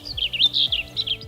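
A Blue Grosbeak, a North American songbird, sings a quick, bright warbling phrase of rising and falling chirps, close and clear over a quiet background.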